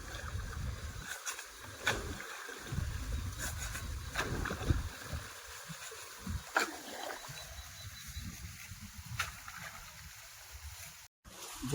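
Irrigation water runs through a grass field on a farm in a steady, close rush of flowing water, with breezy wind noise and a few scattered knocks and bumps.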